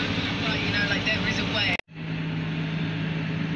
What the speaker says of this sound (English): I haven't turned the tractor off, Joe.